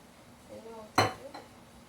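A pan is set down on the stove with one sharp metallic clank midway, followed by a faint lighter clink, in a quiet kitchen without talk.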